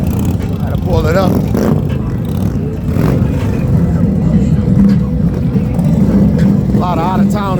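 A red Harley-Davidson motorcycle pulls up at a Bedford, Ohio Harley dealership sound show, its loud engine rumbling steadily close by with rising revs, while people talk over it.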